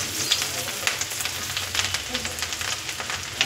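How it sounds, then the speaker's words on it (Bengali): Chopped garlic, ginger and green chili hit hot oil for chili chicken, a close, steady crackling sizzle dotted with quick spits and pops, with no one talking. "ওই তেলে আমি প্রথমে দিয়ে দেবো রসুন কুচি, আদা কুচি আর কাঁচা লঙ্কা কুচি"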